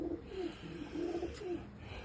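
Pigeons cooing close by, a few soft, low repeated coos in a steady rhythm over faint background noise, with no talking.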